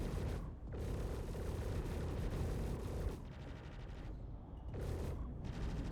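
Sustained gunfire striking a ship in the space game Star Citizen, a dense, rumbling barrage of rapid impacts and blasts that briefly cuts out twice, loud and continuous with no talk.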